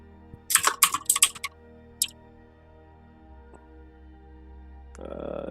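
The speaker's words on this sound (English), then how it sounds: "Is my keyboard in Greek?" Typing on a computer keyboard: a quick burst of close, crisp key clicks, then a lone keystroke, followed by quiet and a soft rustle at the end.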